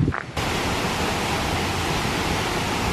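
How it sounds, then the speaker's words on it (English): A steady, dense roar of a waterfall on Maui, Hawaii, loud and continuous, after a brief quieter moment at the very start. "You guys can hear the falls."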